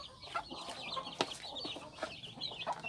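Farmyard hens cluck steadily close by among chicks, with repeated short, raspy calls and a few sharper squawks over a quiet rural background.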